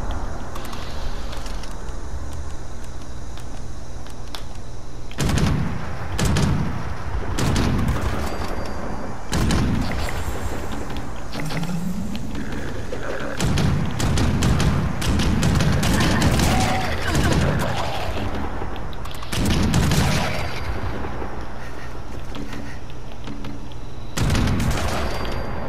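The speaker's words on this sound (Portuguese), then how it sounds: "Vamos tentar matar eles atirando na perna." Gunfire in Fallout 76 as feral ghouls are shot in the legs near the Brotherhood area: bursts of shots and booms break out repeatedly over a dense, noisy game backdrop, loud and close.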